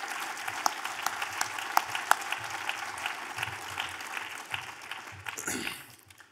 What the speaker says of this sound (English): let's give a round of applause to all the folks in the room who have had the guts to serve and put their name on a ballot